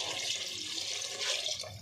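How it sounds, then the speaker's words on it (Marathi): Water poured into a pot of spiced rice with kasuri methi and food colour, cooked for Nilanga rice: a steady, close splashing pour running evenly for the whole clip with no talk. "आता पाणी टाकून घ्यायचे"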